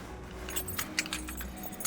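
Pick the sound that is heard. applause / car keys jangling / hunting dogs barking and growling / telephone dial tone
car keys jangling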